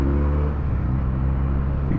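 A Benelli TNT 300 motorcycle engine runs while being ridden in Bangalore, a steady, fairly quiet low rumble with a smooth, even drone and slight pitch shifts.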